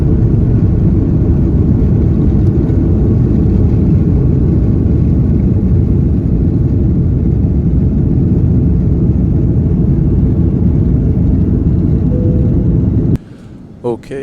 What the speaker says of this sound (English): we are next up for takeoff, so we should be in the air here in just a bit